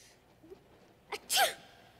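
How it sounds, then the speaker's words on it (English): A single sharp sneeze close by, a brief intake of breath followed by a loud burst, in an otherwise quiet room. "You wouldn't be sneezing if you weren't cold."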